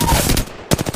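Rapid automatic gunfire in Apex Legends, a dense burst of close, loud shots, a brief pause, then another quick volley.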